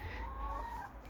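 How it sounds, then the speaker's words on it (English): Backyard chickens kept beside an art studio cluck and warble softly in a short, faint murmur over low ambient rumble outdoors. "living just next to it we have my lovely models, the chickens"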